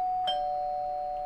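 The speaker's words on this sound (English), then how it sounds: "Someone ringing bell." Doorbell ringing in a house: a single electronic chime holding one steady sustained tone with a faint click at its start, alone in a quiet room.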